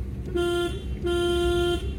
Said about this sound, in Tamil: ஹார்ன் கொடுங்க